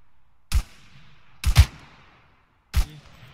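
Gunfire in the military video game Arma 3, heard as three sharp, loud shots spaced about a second apart, the middle one a quick double, each with a decaying echo tail and no talking.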